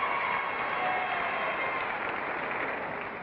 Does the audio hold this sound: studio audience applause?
yes